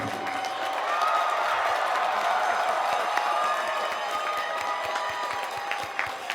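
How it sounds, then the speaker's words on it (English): Sustained applause and cheering from a large crowd at a College of Business Administration commencement ceremony for the class of 2016, dense and steady throughout with no talk. "How about one more round of applause for the class of 2016?"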